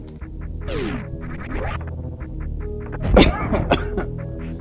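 A single close, harsh cough bursts out in the middle, partway through a session of the game Super Metroid. Retro game music and beeping effects play steadily underneath.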